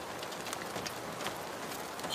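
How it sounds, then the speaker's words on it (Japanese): Steady rain falling on a mountain cooking spot outdoors, a dense continuous patter of drops hitting surfaces, fairly even in level throughout with no voices. "雨の雨音が強くなってきてる"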